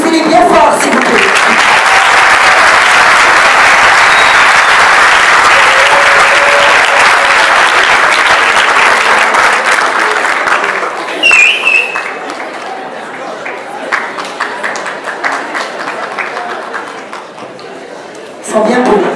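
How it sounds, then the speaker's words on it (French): Loud, sustained audience applause at a graduation ceremony for a master's in human resources management fills the first ten seconds, then thins into scattered claps and crowd murmur before rising again briefly at the end. "Applaudissez-les bien fort"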